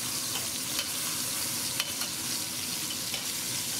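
Meat sizzles steadily in a hot pan as its other side browns for a French dip, a dense continuous frying hiss with a few faint pops, close and without talk.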